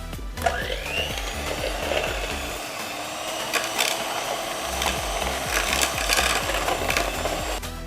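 An electric mixer churns cinnamon cake batter with a steady, close whirring drone, scraping and rubbing against the bowl, with no talking.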